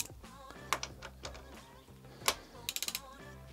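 A 16 mm socket on a ratchet loosens the idler pulley and alternator bolt on a BMW E46 330i with an M54B30 engine, giving close ratchet clicks in bursts, including a quick run of ticks near the end.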